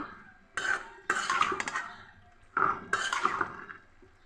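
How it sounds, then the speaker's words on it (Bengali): Chicken and mung dal being stirred and sautéed in a pan, a few bursts of spoon scraping and clinking against the metal with short pauses in between, close and fairly loud. "চিকেন আর ডালটা ভালো মতো আমি কষিয়ে নিচ্ছি।"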